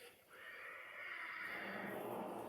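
A horse near a corral lets out a loud, drawn-out whinny, rising in pitch and holding steady for about two seconds against a busy background.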